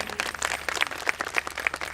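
Audience at a school annual day celebration clapping, a short burst of scattered, uneven applause with some sharper individual claps, moderately close.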